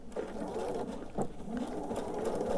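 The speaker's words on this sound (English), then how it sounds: "I do like in the beginning to do a couple stitches and backstitch." A sewing machine stitches quilt binding, running a few stitches and backstitching before continuing around the quilt; its steady mechanical hum is close and fairly loud, with a brief change in pitch partway through.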